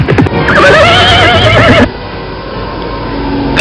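Cavalry horses carrying mounted soldiers whinny loudly and close by in a long wavering neigh, with a few hoof clops before it, then a quieter murmur of movement follows.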